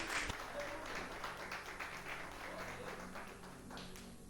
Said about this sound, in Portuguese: Vamos receber o servo de Deus com palmas, bem alegre, glorificando a Deus.